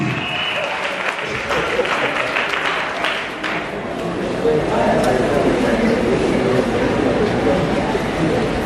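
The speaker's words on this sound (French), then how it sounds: "Est-ce qu'on peut acclamer Jésus?" A church congregation at a Sunday worship service applauds and cheers for Jesus, with loud, sustained clapping and crowd noise filling the room, and voices mixed in throughout.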